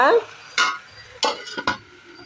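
Eggplant pachadi being stirred in a cooking pot, with a few distinct scraping strokes of a spoon against the pot over a light sizzle, close and moderately loud, no voices.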